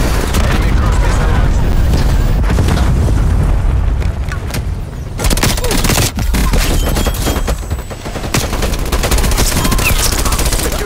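A cruise missile strike and gunfire in the video game Call of Duty Cold War: dense, loud, continuous automatic weapon fire with booming blasts, close and overlapping, with game voice callouts mixed in.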